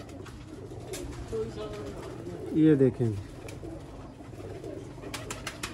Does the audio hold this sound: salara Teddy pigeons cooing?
yes